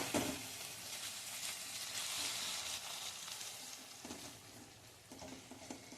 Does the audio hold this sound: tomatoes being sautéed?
yes